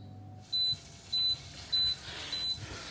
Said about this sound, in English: As you can hear, our timer's gone off